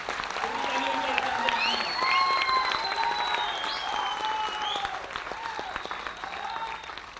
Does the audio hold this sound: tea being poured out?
no